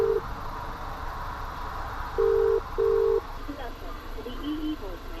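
A gate intercom buzzer rings in three flat, steady tones, one short and two longer, close and clear, with faint street background and brief quiet talk afterward.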